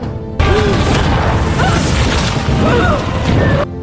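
A loud, sustained crashing rumble with heavy booms and splintering noise, like a huge tree toppling after an explosion, with dramatic music underneath.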